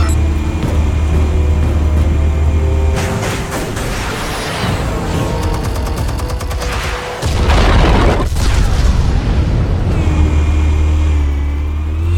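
Explosives detonate in an animated Batman scene as a series of loud, heavy booms and rumbling blasts spread across several seconds, with crackling debris between them and no talk.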